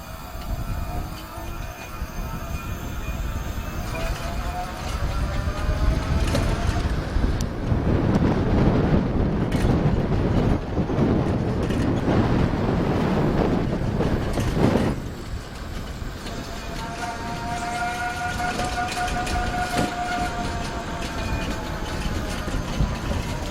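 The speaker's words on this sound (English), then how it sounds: "I think here's a good time to try an acceleration test." An electric bike slowly accelerating uphill, its motor giving a rising whine and hum that builds and fades, heavily masked by loud wind buffeting the microphone.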